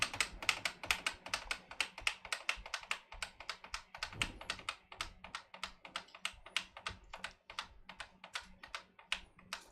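A computer keyboard key tapped rapidly and repeatedly to enter the BIOS on a PC built around an Athlon 3000G, crisp clicks in a fast, fairly even rhythm, close and quiet.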